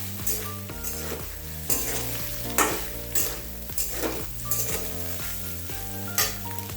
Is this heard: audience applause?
no